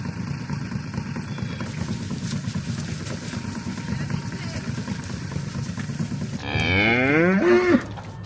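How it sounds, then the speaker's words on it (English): Heifers and bullocks in a winter cattle shed; a single loud, close moo rises near the end over steady low engine-like rumble and background noise, with people talking earlier. "There's some happy heifers and there's 3 bullocks there."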